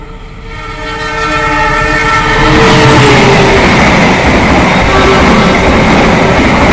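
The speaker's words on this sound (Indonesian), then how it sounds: "Kereta api Argo Bromo Anggrek sudah melintas stasiun Karawang menyusul Madiun Jaya." A train horn blares in long tones as the Argo Bromo Anggrek passenger train rushes past Karawang station, its rumble and wheel clatter swelling loud and close.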